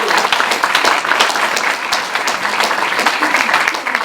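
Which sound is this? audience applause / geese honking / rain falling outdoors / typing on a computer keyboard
audience applause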